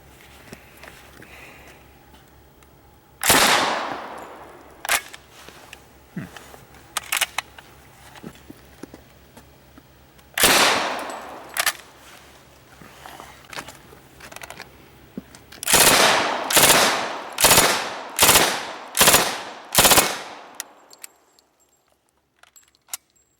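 An M1 Thompson submachine gun fires: two loud single shots several seconds apart, then a rapid string of about seven shots that ring out and fade.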